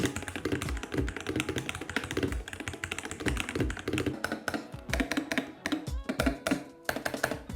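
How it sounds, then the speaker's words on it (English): Steady, rapid clacking of an Apex Pro mechanical gaming keyboard being typed on, close and fairly loud, with occasional heavier key strikes. "here is a quick sound test of this keyboard"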